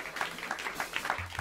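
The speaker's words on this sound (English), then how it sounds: "you guys can give him a round of applause" Audience applause and clapping in a small jazz club as a musician joins the quartet on stage, a soft steady patter of hands heard from a distance with a voice and a few cheers mixed in.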